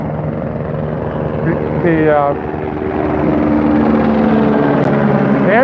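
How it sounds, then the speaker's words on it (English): A military helicopter's steady rotor drone builds overhead in Washington, D.C., loud and continuous, with a voice talking over it. "a military helicopter flying over us here in Washington, D.C."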